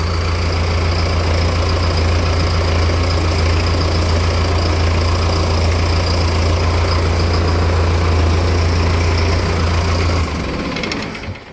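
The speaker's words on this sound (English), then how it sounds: "I'm actually gonna start tractor and turn the wheel out" A heavy tractor engine idles close by with a deep, steady knocking chug for about ten seconds, then cuts off.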